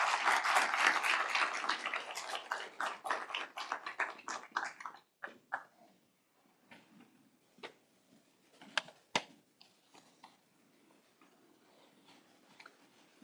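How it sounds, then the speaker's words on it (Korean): Applause from a ceremony audience at a university presidential inauguration, loud and dense at first, then thinning after about five seconds into scattered, sparse claps that fade out. "큰 박수로 맞아주시기 바랍니다."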